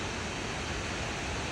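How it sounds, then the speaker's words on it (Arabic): A waterfall in the Swiss mountains roars as a steady, dense rush of falling water, a constant broadband wash with no breaks and no voices. "أول مرة أشوف شلال"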